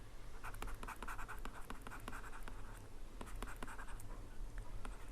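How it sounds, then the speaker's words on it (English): Marker or pen writing equations on a board during a physics lecture, a steady run of short scratchy strokes and taps over a low room hum, close and alone with no talk. "Let me just write it."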